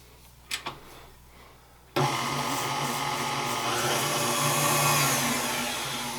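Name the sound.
electric mixer whisking butter and sugar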